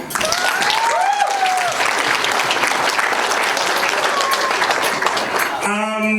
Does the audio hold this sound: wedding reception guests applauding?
yes